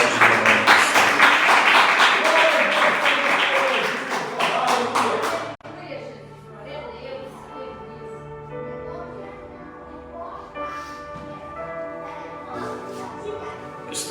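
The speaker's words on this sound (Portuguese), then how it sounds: "Todos podem aplaudir o nome do" A church congregation claps in a quick, dense burst for several seconds, then the applause fades into a softer, sustained background with voices and tones.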